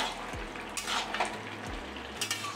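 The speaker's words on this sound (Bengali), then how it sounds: "একটু নেড়ে দেবো" Bengali mixed vegetable curry being stirred in a pan, a soft continuous sizzle with a few light spoon scrapes and taps against the metal, faint and close.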